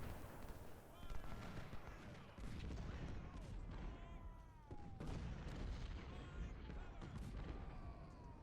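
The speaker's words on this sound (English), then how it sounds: "now I can hit him with all the artillery in the world" Artillery fire in Ultimate General: Civil War rumbles as a dense, continuous barrage of booms and gunfire mixed with battle noise, heard under talking throughout.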